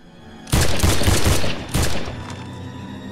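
Gunfire erupts in two loud, close bursts of rapid shots, the first lasting about a second, a short pause, then a second burst that tails off into echo.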